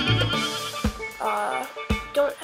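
Goats bleat in the Minecraft video game, several quick wavering cries in a row, loud and close with short gaps between them.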